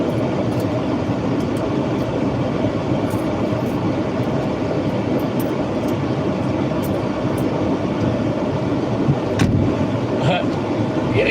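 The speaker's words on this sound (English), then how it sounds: "put the blower on for a second" Heater blower inside a milk float, a loud, constant broadband whoosh of rushing air that holds steady throughout with no breaks.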